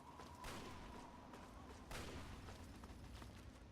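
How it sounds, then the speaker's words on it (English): Turrets at the Citadel in Fallout 3 fire distant rounds, heard as faint, muffled booms and cracks, with two stronger reports standing out over a low ambient rumble. "there's guys up on the Citadel firing rounds"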